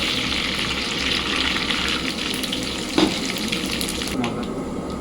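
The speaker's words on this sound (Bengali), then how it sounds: "লঙ্কা আর পাঁচ ফোড়ন দিয়ে দেব" Green chillies and panch phoron spices sizzle steadily in hot oil, a constant crackling fry close up with a couple of faint clinks.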